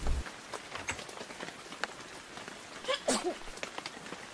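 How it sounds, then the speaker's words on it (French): Rain patters steadily in a French children's cartoon, a soft continuous hiss of drops with a few brighter splashy accents, quiet and without speech. "Il ne va donc jamais s'arrêter de pleuvoir."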